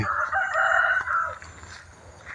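A rooster crows once, loud and close, its call trailing off after a second over faint background noise.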